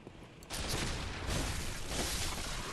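Enemy gunfire in the dark action game Bloodborne, a dense loud burst of shots and crackling blasts that starts abruptly after a quiet half second and keeps up without a break.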